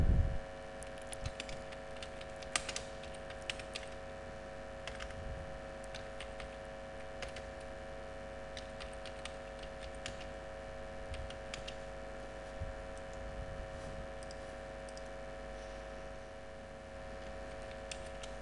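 Typing on a computer keyboard while working in Microsoft Word 2007: sparse, quiet key clicks tap out at an irregular pace over a steady background hum.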